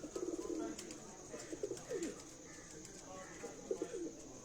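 Rare-breed pigeons on a rooftop coo softly in short, repeated bursts, with a faint high electrical hum in the background.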